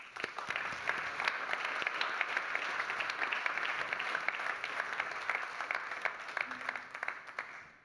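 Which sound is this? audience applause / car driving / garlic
audience applause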